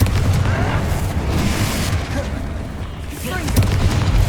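A Confringo blasting spell bursts in Hogwarts Legacy amid combat, producing a continuous low rumbling boom with crackling bursts spread across the stretch, loud and dense throughout.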